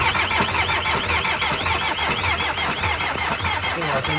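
A Škoda Octavia with a replaced turbo cranks and catches, then its engine runs on in a steady rhythmic chatter, loud and close with no talk.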